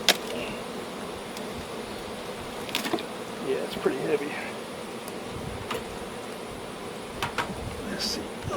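Honey bees buzz steadily around an open hive box as it is lifted off during a honey harvest, a close, continuous drone with brief louder passes, while a person talks over it.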